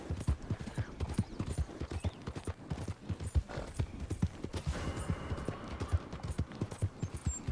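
Rapid rhythmic hoofbeats of a galloping horse in the video game Red Dead Redemption 2, steady and close, with a faint whinny mixed in; no talking.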